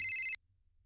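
Telephone ringing indoors with a short, bright electronic ring that cuts off abruptly, followed by near silence.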